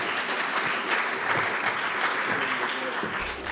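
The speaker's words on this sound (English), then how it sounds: "So another round of applause for Amelia Powers Gardner for leadership." Steady applause from an audience at an awards event fills the whole stretch, dense and even with no pauses.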